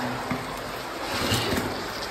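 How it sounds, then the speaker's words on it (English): Clear cave river flowing strongly down into a sump, a steady broadband rush of water heard close and alone, with no talk. "See the river flowing here pretty strong down into the sump area."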